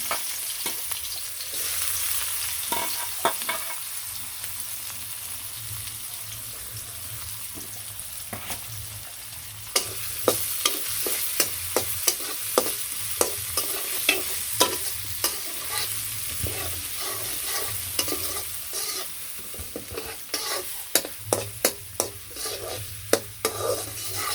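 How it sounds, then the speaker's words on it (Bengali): Onions frying in oil in a home kitchen, stirred with repeated scraping clicks over a steady, close sizzle, the stirring growing busier in the second half; no talking. "মিনিটের মতো পেঁয়াজ ভেজে নিলাম একটু লাল লাল হয়েছে"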